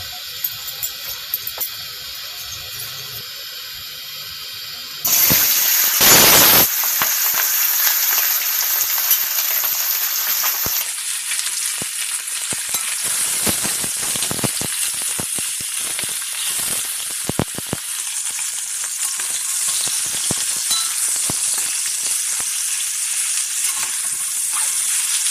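Chicken fries in refined oil in a pan: a loud, bright sizzle bursts in after a quiet start and then settles into a steady hiss that carries on to the end.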